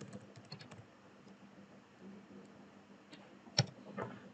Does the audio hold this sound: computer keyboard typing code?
yes